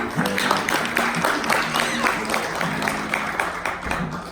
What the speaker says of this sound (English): How about a big round of applause, everybody?